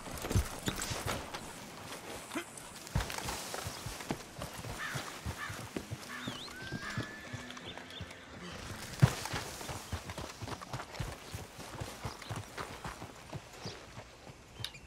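Horse hooves clip-clop at a steady trot in the video game Red Dead Redemption II, fairly close, while a voice talks intermittently over them.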